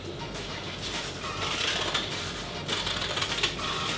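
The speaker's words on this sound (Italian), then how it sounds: "con le forbici tagliamo la parte centrale del foglio per costruire una cornice" Scissors cut the centre out of a sheet of paper to make a frame, a close, dense run of crisp snipping and rustling that thickens slightly partway through.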